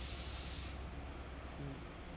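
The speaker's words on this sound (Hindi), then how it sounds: "कुकर की सीटी की आवाज़ आ रही है," A pressure cooker lets off steam in a loud, close hissing burst that lasts under a second, then cuts off into a quiet room.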